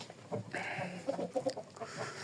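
A late-hatched young rooster chirping and clucking, several short close calls in quick succession with some farmyard background.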